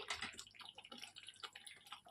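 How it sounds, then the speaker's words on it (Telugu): Water poured from close by into a pan of mushroom masala curry gravy, a splashing, trickling pour lasting about two seconds, fairly faint and with no talk. "నేను ఇక్కడ కొద్దిగా వాటర్ని వేసేసుకుంటున్నాను"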